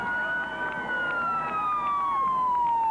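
Police car siren wailing through the streets of Seward during a mountain running race, a loud steady tone sliding slowly downward, close and continuous.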